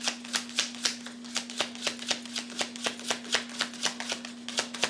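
Astrology cards are shuffled for a tarot reading, producing a brisk, even run of soft riffling snaps close up, repeating steadily over a low steady hum with no voices.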